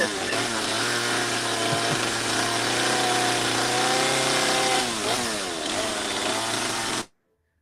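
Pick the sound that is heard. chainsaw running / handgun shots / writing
chainsaw running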